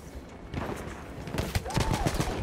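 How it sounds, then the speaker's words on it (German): Rapid, rattling bursts of gunfire in multiplayer Battlefield 1, a dense crackle of shots growing louder toward the end, with a short whistling sweep partway through. "wer schießt da auf mich?"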